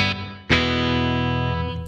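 A sustained electric guitar chord struck twice through a Blackstar amPlug2 Fly headphone amp's room reverb, ringing out with a short, roomy reverb tail that fills the space without long decay.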